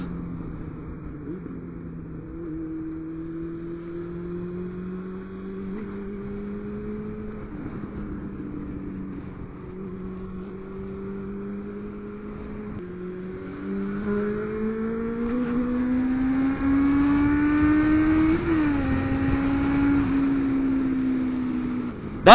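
A Honda CB400 Super Four Revo 400cc motorcycle engine revs steadily and then climbs in pitch as it accelerates, holding loud and close throughout with a sharper surge near the end.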